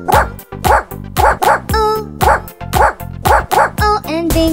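Cartoon dog in the Bingo nursery rhyme barking in a quick repeated series of loud, bright, evenly spaced woofs, with a few sung or yelping tones between them.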